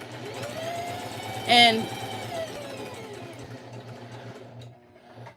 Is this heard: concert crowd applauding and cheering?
no